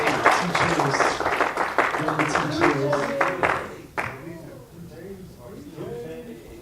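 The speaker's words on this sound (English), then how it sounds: "let's give Aaron Sim a big hand of applause" An audience claps in welcome for a guest, a burst of applause that overlaps someone talking and fades under his voice partway through.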